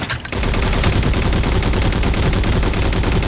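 Turret gunfire from Halo 4, a sustained rapid automatic burst that starts after a brief pause and continues loud and unbroken, close to the listener.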